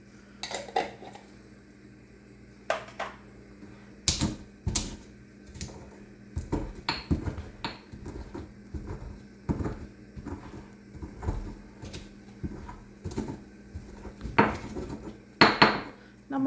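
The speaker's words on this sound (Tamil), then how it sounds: "ஒரு 4 ஏலக்காய் அதையும் போட்டு நல்லா தட்டிடலாம்." Cardamom pods are pounded in a small metal or stone vessel, irregular sharp knocks and clinks spaced unevenly with brief pauses between strikes.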